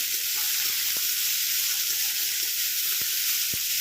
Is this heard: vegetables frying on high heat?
yes